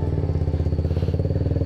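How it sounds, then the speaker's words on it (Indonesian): Motorcycle engines running close by on a forest road toward a pine forest in Purworejo, a steady throbbing exhaust pulse with a fast even rhythm, loud and continuous with no talking over it. "Tiga motor ketemu bareng."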